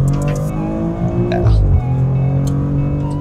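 A Maserati sports car engine hums steadily with rich low harmonics, swelling briefly into a louder rev before settling back, with faint voices murmuring over it.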